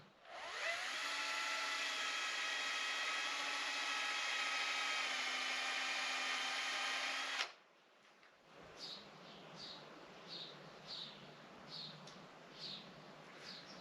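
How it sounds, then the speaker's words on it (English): A power drill whines loudly and steadily for about seven seconds, driving into bamboo garden stakes wired up for tomato plants, then cuts out, leaving quiet outdoor background with faint repeated short sounds. "I'm just using wire and then drilling in these bamboo sticks."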